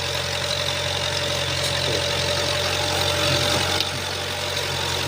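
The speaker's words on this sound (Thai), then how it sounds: "รถไถใหญ่เลยนะครับ" A large tractor engine idles with a steady, rumbling drone, heard close and constant throughout, without any speech.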